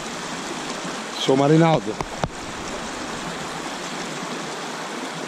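Water from a stream runs steadily over rocks, a constant rushing wash heard close by, with a brief spoken exclamation and a small knock partway through.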